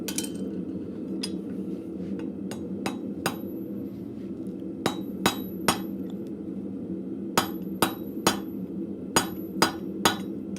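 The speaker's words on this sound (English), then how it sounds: "This is a little bit challenging shape to rivet" A hammer strikes a rivet on an anvil at a blacksmith forge, a series of bright metallic clinks, sparse at first and then in quick pairs, over a steady low hum of the shop.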